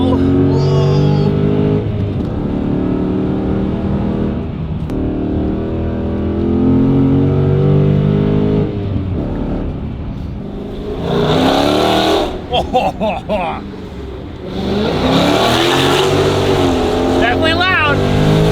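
A Dodge Challenger Scat Pack with a valved performance exhaust revs and accelerates loudly, the engine note rising and falling in bursts beside the car, with excited voices speaking over it.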